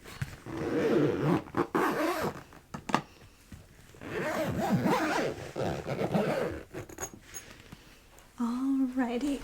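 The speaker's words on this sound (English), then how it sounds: "And then you're all done and you can zip it back up." A zipper is drawn around a soft violin case to close it, close-up and quiet, in several separate scraping pulls with short pauses between them.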